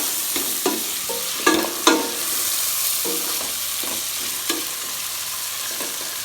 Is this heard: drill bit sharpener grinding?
no